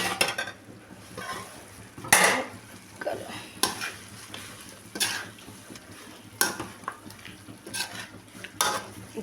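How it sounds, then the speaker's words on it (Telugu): Chicken frying in a pan with ginger-garlic paste for a chicken curry, with steady sizzling broken by repeated scrapes and clinks of a spoon stirring against the pan, close and fairly loud. "అల్లం వెల్లిపాయ పేస్ట్ ముక్కలు పట్టుకునేటట్టు వేయించుకుందాం."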